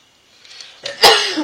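A single close sneeze with a short sharp intake of breath, then an abrupt explosive burst that trails off.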